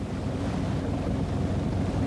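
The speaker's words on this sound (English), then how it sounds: "Wind has come after the rain, raising choppy waves on the lake." Wind gusts and choppy waves slap steadily against a steel-hulled narrowboat on a lake after rain, a dense continuous wash of water and buffeting air with no voices.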